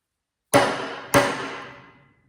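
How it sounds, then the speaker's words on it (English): Two sharp metallic hammer strikes about half a second apart, driving a roll pin through a distributor gear, each ringing out briefly before fading; close and loud, with no talking. "You just drive the roll pin through, just like that."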